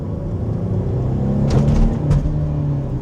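A car with resonator and muffler delete pulls hard, its raw, loud exhaust rumble building under acceleration, close and steady with a brief rise in the middle.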